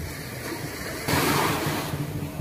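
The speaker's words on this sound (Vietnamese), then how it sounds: "Trên bãi biển Nha Trang sóng vỗ rì rào." Ocean waves on Nha Trang beach at night, a steady broad wash of surf that swells louder partway through, with a constant rushing hiss and low rumble.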